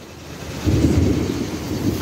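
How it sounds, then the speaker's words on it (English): Thunder from a summer thunderstorm in Florida: after a quieter start, a low, heavy rumble swells and rolls on steadily to the end, with no voices. "I don't know if y'all can hear it thundering."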